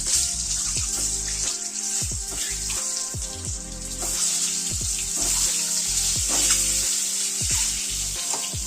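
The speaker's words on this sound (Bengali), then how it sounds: "আর এই ডিমটা ভেজে নিচ্ছি" An egg fries in hot oil with turmeric and salt, giving a steady, close hiss that runs the whole time. Repeated low knocks and clatter from the pan sound beneath it, with no one speaking.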